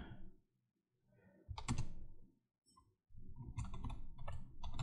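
Someone typing a ChatGPT prompt on a computer keyboard: uneven bursts of fast clicking keys, separated by short pauses, fairly close and with no voices.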